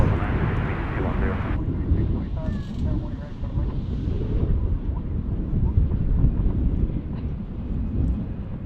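A heavy Lufthansa airliner departs DFW, its engines giving a loud, broad roar with wind buffeting the microphone. The roar holds steady throughout and swells slightly in the middle.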